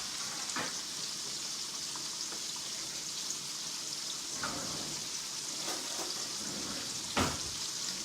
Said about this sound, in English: now, because I got my grease ready for my fried dill pickles